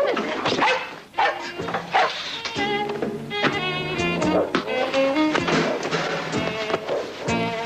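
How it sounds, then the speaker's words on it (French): A dog barks repeatedly at close range, with yips and whimpering whines mixed in, fairly loud and continuous through the clip. "C'est un chien méchant"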